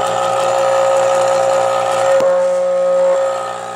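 A loud, continuous fire alarm bell from a fire alarm control panel rings with a steady metallic tone, then cuts off abruptly near the end.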